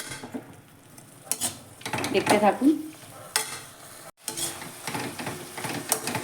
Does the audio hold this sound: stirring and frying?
yes